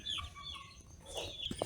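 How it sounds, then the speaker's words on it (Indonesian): Broiler chickens cluck softly amid a busy farmyard background, with a few short, sharper calls rising near the end. "ini adalah ayam broiler"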